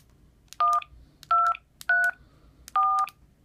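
Four separate DTMF keypad tones enter the access code 1234 for an Arduino decoder controlling a relay. Each beep is short, clean and evenly spaced, with near silence between them.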